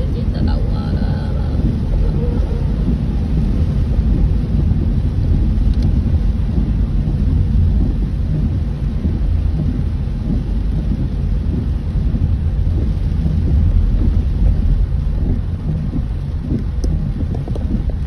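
Heavy rain pours steadily at a cable car station in Genting Highlands amid fog, a loud, continuous broadband wash with low rumbling and wind buffeting across the whole stretch.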